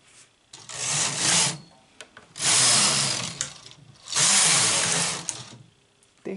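A knitting machine carriage sweeps back and forth across the needle bed while knitting a hat with a change of yarn colour, giving three long, loud rasping passes separated by short pauses.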